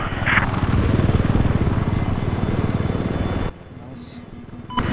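A helicopter in Battlefield on the Caspian Border map gives a loud, steady rotor chop with engine drone for about three and a half seconds, then cuts out sharply, leaving quieter game ambience and a few short tones.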